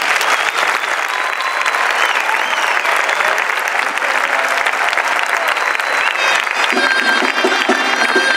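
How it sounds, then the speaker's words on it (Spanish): Loud, sustained applause from a crowd honouring dancers at a traditional paloteado performance in Cortes de Navarra, dense clapping that continues steadily throughout, with a few voices and cheers mixed in near the end. "recibiré este fuerte aplauso que bien os lo habéis ganado"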